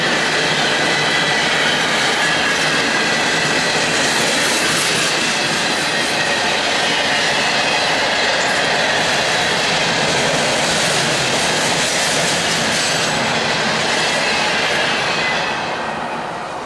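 A freight train with locomotives rolls past close by in Lakeland, Florida, a loud, steady roar of wheels and rumbling cars that holds for the whole stretch and only starts to ease at the very end.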